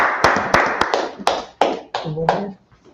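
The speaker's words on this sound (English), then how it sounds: "Clap it up for the class." Clapping at a street gathering, about eight loud, separate claps in an uneven rhythm, each sharp hit ringing briefly before the next, with a voice murmuring under the last ones.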